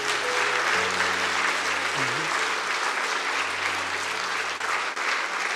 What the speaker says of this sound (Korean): 여러분 박수 한번 해주십시오